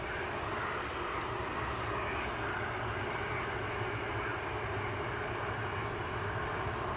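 A Lufthansa Airbus A319 arriving from Frankfurt at Manchester Airport gives a steady, loud, broadband engine roar that holds evenly throughout, with no voices.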